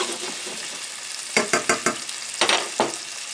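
Hot Italian sausage pieces fry in a pan for a rigatoni dish, a steady soft sizzle broken by several sharp scraping stirs, close and clear with no talking.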